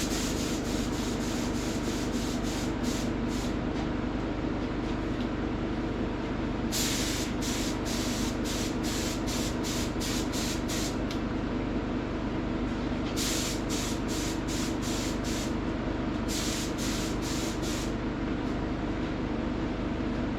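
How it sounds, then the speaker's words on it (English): Spray gun applying tinted finish to a resonator guitar neck, heard as a steady hiss over a constant compressor drone, interrupted by several groups of short rapid bursts. "So let's get this thing sprayed and see what we think."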